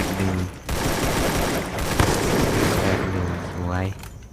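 Rapid automatic gunfire bursts from the Free Fire video game, in loud sustained volleys with booming impacts, with a player's voice over the shots.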